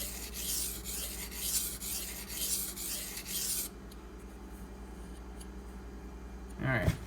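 Maxamet/D2 knife steel rasping across a 1K whetstone in rhythmic back-and-forth strokes for a few seconds, then quieter light scraping, ending with a short louder scrape.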